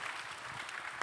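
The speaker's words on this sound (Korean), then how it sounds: "우리 박수하겠습니다." A short burst of scattered clapping from a small church youth audience, fairly soft and steady for about a second.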